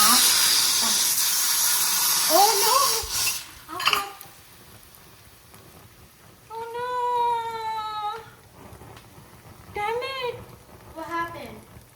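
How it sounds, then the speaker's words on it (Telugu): Dal in a pressure cooker on a stove boils over, letting out a loud, steady rush of steam hiss for about three seconds, followed by high, wavering voice-like cries and sounds in the background. "చూడండి పప్పు ఎలా పొంగిపోయిందో"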